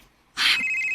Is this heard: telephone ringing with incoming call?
yes